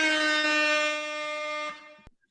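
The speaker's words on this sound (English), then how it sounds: "I hit the air horn for that" A loud, sustained air horn blast, rich and brassy, held for nearly two seconds before cutting off with a click.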